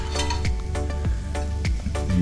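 Crayfish cooking in a frying pan during a South African catch-and-cook, giving a dense crackling sizzle with sharp clinks and scrapes of a utensil against the pan, close and loud.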